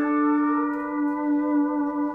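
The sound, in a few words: pedal steel guitar ascending slide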